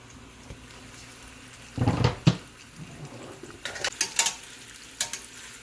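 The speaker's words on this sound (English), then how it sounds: "I'm just toasting the cut tortillas, just kind of moving it around, looking to crisp it up a little bit" Cut corn tortillas fry in a generous amount of hot oil with a low crackle. Bursts of scraping and clattering come as they are stirred around the pan, followed by a few sharp clicks of the utensil.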